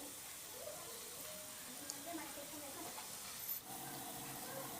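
Sliced bitter gourd chips frying in hot oil, a soft steady sizzle and hiss with occasional stirring, quiet and continuous beneath a voice talking.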